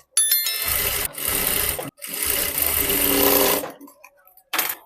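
A sewing machine stitches a blouse seam from the armhole toward the neck, running in steady bursts with brief pauses between runs, close and loud, with a short final burst after a gap.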